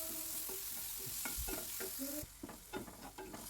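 Spices for a wedding-style potato masala sizzle and fry in a hot pan while a utensil stirs and scrapes repeatedly, the clatter steady and close throughout.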